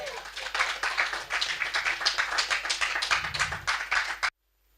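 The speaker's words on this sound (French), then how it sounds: "applaudissons le Seigneur" Church congregation applauding during a French-language sermon, a close, rhythmic run of brisk hand claps in regular beats, loud and continuous before stopping abruptly into silence.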